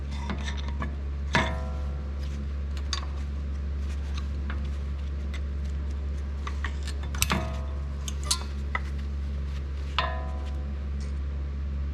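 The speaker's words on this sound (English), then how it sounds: "next up we'll just take the pads out of the brake caliper bracket" Brake pads are worked out of the caliper bracket on a 2017 Jeep Wrangler JK, giving scattered metallic clinks, scrapes and taps at irregular intervals over a steady low hum, close by and with no talk.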